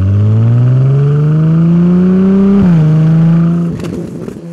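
Ferrari 296 GTB exhaust sounds loud and close, the engine rising steadily in pitch under acceleration, with a brief shift at about two and a half seconds and a dip near the end as the note drops away.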